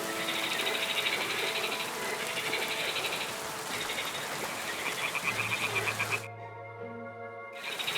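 Toads croak steadily in the video game Kingdom Come: Deliverance 2, a dense pulsing chorus with insect-like trills that suddenly cuts out near the end, leaving a low tone and sparse croaks.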